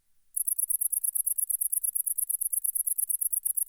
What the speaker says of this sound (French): la grande sauterelle verte